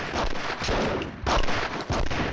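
A burst of gunshots in a crackhouse shootout from a Punisher game, loud, dense and close, with several heavy reports over a couple of seconds.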